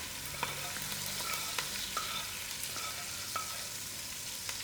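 Masala spices frying with lamb in a pot give a steady, close sizzle, with a few light clicks and stirring scrapes scattered through it.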